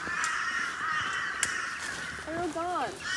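Crows cawing on a farm, a few harsh calls, the nearest ones short and close, over steady outdoor background noise.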